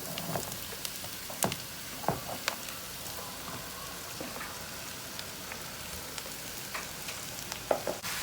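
Cabbage tipped into a pan of browned onions sizzles and crackles steadily at a low level, with scattered sharp pops and clicks throughout and no talking.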